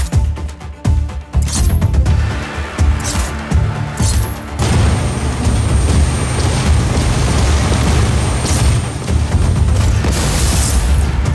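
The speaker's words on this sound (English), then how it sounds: "One generator down." A generator blows up after being shot in Just Cause 4, a heavy booming explosion followed by a long roaring rumble of fire and debris, loud and sustained, with sharp crackling bursts early on.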